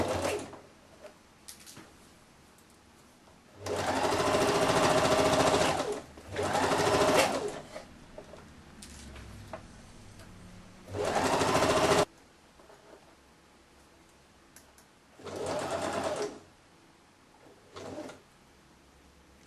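Sewing machine stitching a hem on a woman's blouse with a Peter Pan collar, running in several separate bursts of two to three seconds with quiet pauses between them and no talking.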